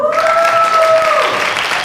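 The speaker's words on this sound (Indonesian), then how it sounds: "Beri tepuk tangan untuk kita semua" Brief burst of audience applause at an MC school event in Surabaya, steady clapping from a group with a sustained tonal voice or music sound running over it, fairly loud and close.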